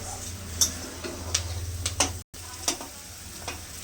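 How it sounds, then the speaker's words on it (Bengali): Winter vegetables fry gently in a pan for mixed dal, a steady low sizzle with scattered crisp ticks and pops, close and without speech. "এগুলো একটু ভেজে নেব।"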